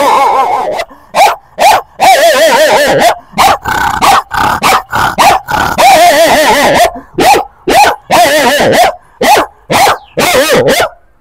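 A person's voice mimics a dog, delivering a long loud run of wavering growling barks and yips in quick bursts with short gaps, close and alone.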